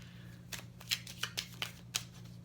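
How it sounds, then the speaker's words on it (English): Tarot cards being handled and drawn from a deck, a short run of crisp papery flicks and snaps, close and fairly quiet, with no one talking. "I'm going to pull out this relationship harmony card."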